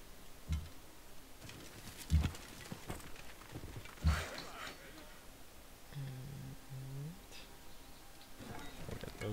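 Horses' hooves clip-clop in the strategy game Civilization V, a few soft, moderately close knocks in loose rhythm against low game ambience, with a brief cooing bird-like tone partway through.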